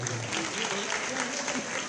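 Dense, steady applause from an audience for a dance company performing at a smartphone launch event in Abidjan, filling the whole short stretch at an even, close level.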